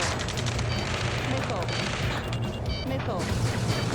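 Gunfire in Ace Combat 7 during a ground rescue firefight: overlapping bursts of shots and crackling fire under shouted radio-style voices, a busy, steady battle din with distant booms.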